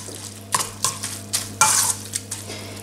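A quick salad is tossed and mixed in a bowl, giving several separate scraping, rustling strokes with short pauses between them, close by and fairly quiet, with no voices.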